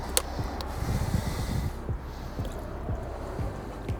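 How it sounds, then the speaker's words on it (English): Wet scrubbing of a timber deck with water and a cleaning solution, soft squishing and dripping strokes repeated at a close but fairly faint level, with no talk. "So I'm just getting the water solution here with the cleaning agent and giving it a good scrub"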